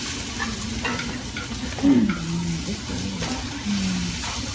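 A close, busy sizzle of stir-frying in a pan with coconut milk going in, a steady hiss with a few brief sloshes and scraping sounds as the ingredients are stirred.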